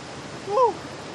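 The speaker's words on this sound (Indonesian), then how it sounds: "Itu dia air terjun Curug Tenang atau sering disebut dengan air terjun Bedegong, Sumatera Selatan, Muara Enim" Curug Tenang (Bedegung) waterfall in Muara Enim, South Sumatra, gives off a steady broadband rush, with a brief voice-like chirp rising over it for a moment.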